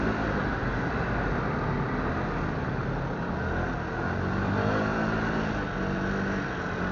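Road traffic moving along a street in Marmaris, Turkey: a steady engine rumble and passing car noise, moderately loud and continuous, with no voices.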